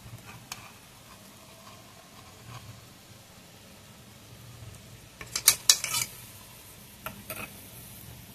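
A spoon stirring green chutney in a pan, soft scraping strokes that rise to a short burst of sharp metallic clinks and taps before settling again.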